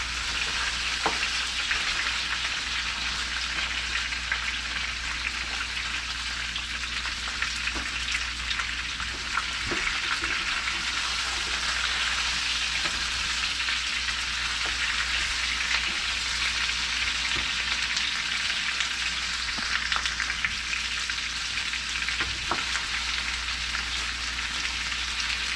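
Pre-smoked kielbasa and potatoes fry together in a pan, making a loud, unbroken sizzle for the whole stretch, dotted with light clicks and scrapes as they are stirred; no one speaks.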